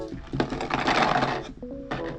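Old paintballs pour and rattle into a Dye Box Mag hopper on a Planet Eclipse EMF100 paintball marker, giving a dense clattering rush for about a second, then a brief mechanical whir and a final short rattle.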